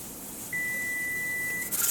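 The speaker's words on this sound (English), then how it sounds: "Turn off the timer." A kitchen timer signals the end of tomato canning time with a single sustained electronic beep, fairly quiet and alone in a still room, cutting off abruptly before faint handling noise.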